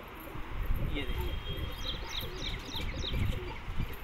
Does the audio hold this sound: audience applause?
no